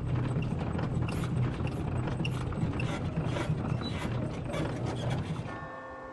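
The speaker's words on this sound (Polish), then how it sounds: "żeby odgrywać odpowiednie melodie przez właśnie tego ziomka automata, który kręci korbą" A clockwork automaton turns a crank in the Syberia adventure game, a dense mechanical whirring and clicking like ratcheting gears, steady and fairly loud throughout, with a brief tonal chime near the end.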